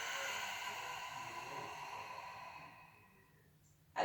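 During a back exercise, one slow, breathy exhalation fades gradually over several seconds, quiet and close, followed by a brief sharp sound at the end, with no talking.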